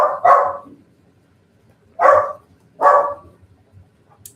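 A dog barks three times indoors, sharp and fairly close, the first two barks quick together and the others spaced about a second apart, with quiet between.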